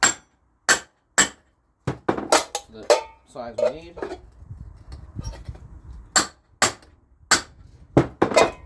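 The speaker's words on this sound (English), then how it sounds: "So now we're just going to hammer that in." Hammer strikes on a can muffler pipe being fitted to a lawnmower, sharp metallic clanks in uneven bursts with pauses, close and loud, with a person talking in the middle stretch.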